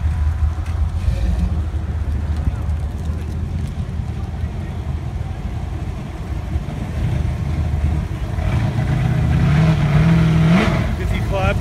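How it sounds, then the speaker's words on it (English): A 1970 Chevrolet Chevelle with front disc brakes rolls past on a cruise street in Huntington Beach, its engine rumble low and steady, swelling louder near the end as it comes close, with wind buffeting and voices nearby. "Coming in a 70 Chevelle."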